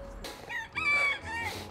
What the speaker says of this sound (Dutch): Dat is een haan.